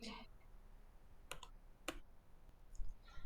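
Computer mouse clicks on a save button, a handful of short, crisp clicks spaced irregularly over a quiet background, some in quick pairs.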